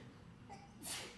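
A single sneeze bursts out near the end, brief and fairly faint against a quiet room.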